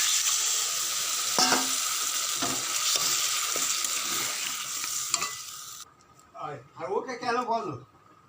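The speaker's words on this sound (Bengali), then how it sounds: "এর মধ্যে মগজদানা বাটাটা আমি দিয়ে দিচ্ছি, জল দিয়ে দিচ্ছি।" Melon seed paste and water go into a pan that sizzles steadily, with a few scraping stirs. The frying sound then cuts off and a person speaks for the final few seconds.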